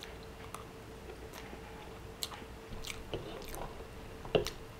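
Quiet, close chewing of pan de bono cheese bread, with soft bites and sparse moist crunches that grow a little louder toward the end.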